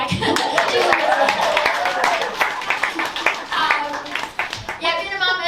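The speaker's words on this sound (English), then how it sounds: "everyone give a clap to the mum at the back." A stand-up comedy audience at the Melbourne International Comedy Festival claps for several seconds, a dense rattle of many hands under scattered voices and speech, fading slightly toward the end.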